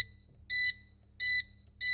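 A Bm730 3-in-1 voltage, ampere and watt meter sounding its low-voltage alarm: three loud, shrill electronic beeps, each about a fifth of a second, evenly spaced with silent gaps between them.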